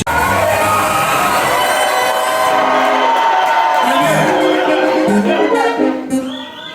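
A church congregation at a Uganda gathering claps and cheers loudly and continuously, with shouts rising from the crowd before the noise fades at the end.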